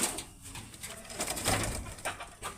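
Pigeons of fancy breeds such as teddy, kamagar and dabol coo softly nearby, low throaty coos repeating over a quiet room tone with no talk.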